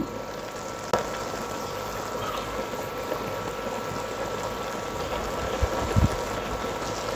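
Carrots for carrot halwa simmering under a lid over medium heat give a steady, quiet bubbling hiss with a faint low rumble and an occasional soft clink or knock, no voices.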